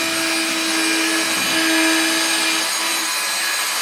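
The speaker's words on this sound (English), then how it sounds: "Drilling." A steady high-pitched drill whine runs continuously for a few seconds while drilling into a wall to mount bookshelves, close and fairly loud, with a slight swell in the middle.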